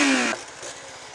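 An R125 motorcycle engine, left in gear, gives a loud buzzing rasp for about a third of a second, then drops away to a lower, rougher idle rumble for the rest of the moment.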